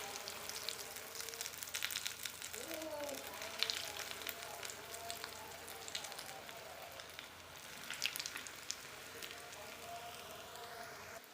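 Bread rolls deep-frying in hot oil, with oil spooned over them, give a soft, steady crackling sizzle with scattered tiny pops, faint but continuous throughout.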